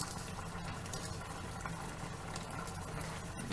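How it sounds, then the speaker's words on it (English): A pot of water rolls at a rapid boil on the stove before whole-grain long grain rice goes in, a dense, steady bubbling and hiss that stays close and unbroken, with no voices. "You can hear it's boiling like rapidly."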